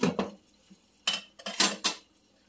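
A metal lid clanks onto a cooking pot of chicken feet tinola with misua, several sharp close clinks and rattles in quick succession.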